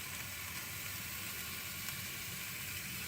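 Steady, faint hiss and crackle of water sizzling in a smoker's pan over burning wood, continuous and even throughout with no voices.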